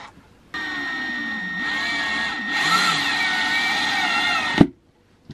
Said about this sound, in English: We got a little drill so that Corbin can do this